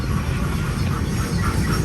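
Norfolk Southern freight train led by four NS locomotives and one BNSF unit on a westbound main track, giving a steady, loud rumble of rolling railcars that continues without a break.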